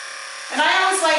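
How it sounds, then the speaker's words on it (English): Electric hair clippers buzz steadily while cutting hair for an undercut bob, the tone shifting and thickening as the blades move through the hair, close and continuous. "I'm just taking the clippers all the way up."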